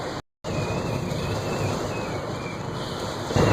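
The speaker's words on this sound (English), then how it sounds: "Boy, there's a lot of heavy rain now." Dense, steady hiss of heavy rain pouring down during Hurricane Odile in Cabo San Lucas, Mexico, 2014, loud and constant, with a brief dropout near the start and wind rushing underneath.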